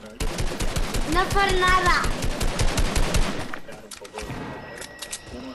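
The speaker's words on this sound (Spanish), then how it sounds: "Raz, ¿por qué nos disparas?" Rapid automatic gunfire from a teammate in a Fortnite trios match, loud and continuous bursts over the first few seconds, with a player talking over it and a brief whistling tone mid-burst.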